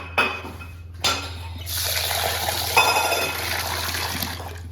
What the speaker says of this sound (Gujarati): હવે વોશ કરી લે 2 પાણીથી